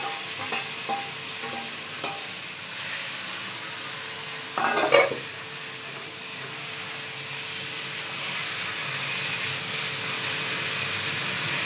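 Goat meat goes into a hot pan for a spicy curry: a brief burst of stirring and scraping, then a steady loud sizzle that keeps going with no voices.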